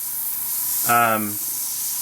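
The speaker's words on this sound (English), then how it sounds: "the spray pattern is a little finer" A short burst of spray from a Tamiya Spray Work HG airbrush, about half a second, steady hiss with a slight tonal hum, fairly close and alone against quiet room noise.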